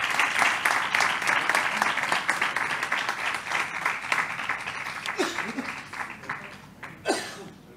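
During a Civil Protection recognition ceremony, an audience applauds José Manuel Rivero Osuna with sustained, moderately loud clapping that gradually thins and fades. Brief voices and a short chuckle surface near the end.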